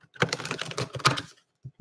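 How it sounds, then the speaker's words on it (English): Rapid papery riffle of a brand-new tarot deck being shuffled up close, a dense burst of card flicks followed by two soft taps. "Just want to get the cards nicely shuffled before we go there."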